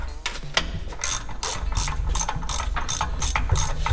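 Ratchet tightening the timing cover bolts on an AMC Hornet engine: loud, close bursts of rapid pawl clicking, repeated in short strokes with brief pauses between, no talking.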